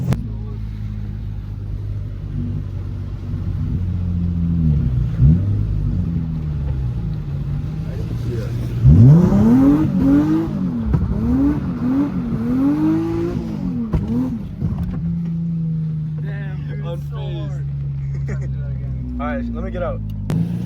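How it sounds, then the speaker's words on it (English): A Nissan 350Z engine drones and revs in repeated swooping rises and falls as the car drifts, loud and close, with people talking over it. "it's so hard to drift"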